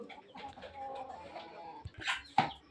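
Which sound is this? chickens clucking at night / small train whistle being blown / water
chickens clucking at night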